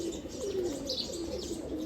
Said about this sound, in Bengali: কবুতর এখন বাচ্চা পালতেছে।